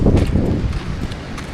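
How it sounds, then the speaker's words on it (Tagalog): Strong wind gusting across an open yard on a cold winter day, a dense low roar with buffeting on the microphone, strongest at the start and easing slightly, no voices. "Lakas po ng hangin."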